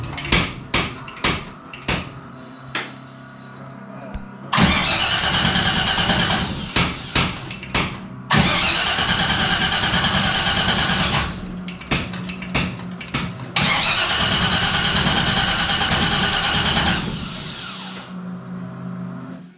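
Engine of a Henry J gasser that has not run in a long time, cranking without firing: short clicks first, then three long, loud bursts of rhythmic starter churning separated by brief gaps.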